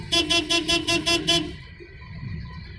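A car horn beeps in a rapid series of about seven short honks, then stops, leaving the low hum of road traffic.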